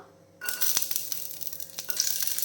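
Five or six garlic cloves drop into hot oil in a kadai, setting off a sudden close sizzle that holds as a steady, bright crackling hiss with small pops and no voices.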